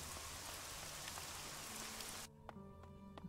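Steady hiss of video game rain pattering on a surface, which suddenly cuts off and leaves a quieter tonal hum with faint ticks.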